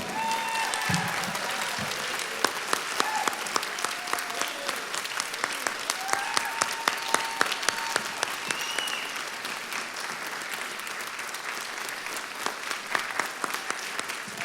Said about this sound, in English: That deserves another great big round of applause